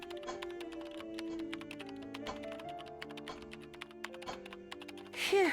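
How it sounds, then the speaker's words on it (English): Keyboard typing in the Nancy Drew game Curse of Blackmoor Manor, a steady stream of quick clicks over a soft sustained musical drone. "I feel like I've been typing forever."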